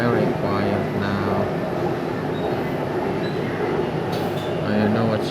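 Riding aboard a Bangkok underground metro train between stations, a steady loud rumble of wheels and car body fills the space, with faint squeals and rattles rising and falling throughout.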